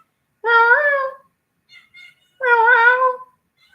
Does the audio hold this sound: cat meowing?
yes